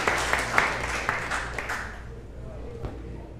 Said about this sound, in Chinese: 我们恭喜他们再一次拍手鼓掌